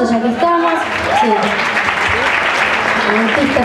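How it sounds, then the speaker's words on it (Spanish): Steady, dense applause from a crowd at an acoustic concert in a small venue, loud and sustained throughout, with a voice heard briefly over it near the start. "Aquí le brindamos un fuerte aplauso, ya que estamos."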